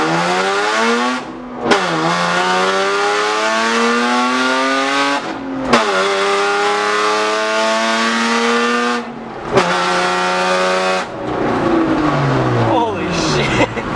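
A straight-piped BMW with headers revs hard through gear after gear, each rising raspy howl cut by a brief shift pause, loud and close, with voices faintly underneath.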